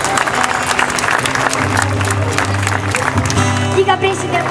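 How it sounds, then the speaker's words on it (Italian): An audience applauds at an Italian music event as the mayor arrives: loud, continuous clapping from a crowd over a low hum, with a voice speaking through the din near the end. "Un applauso anche a lui."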